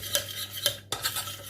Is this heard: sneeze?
no